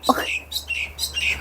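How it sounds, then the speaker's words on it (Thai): Bright, high bird chirps repeat in short bursts close by outdoors in New Zealand, with a faint low hum underneath. "เสียงนกดังกว่าเสียงชั้นนี่กันนะจุดนี้อ่ะ"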